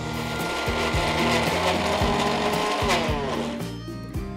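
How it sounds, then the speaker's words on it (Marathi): A mixer grinder dry-grinds roasted masala for a rassa curry paste without water, its motor whining loud and close with the pitch rising and dropping in repeated bursts as the dry mass churns. "पाण्याचा अजिबात वापर न करता हे मिक्सरमध्ये फिरवून"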